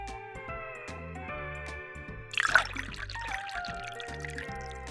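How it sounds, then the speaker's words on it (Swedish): Blue ice-cream syrup drink poured into a glass at a children's toy play session, a short gurgling pour over bright background music that swells briefly in the middle. "Och vi häller upp den i ett glas."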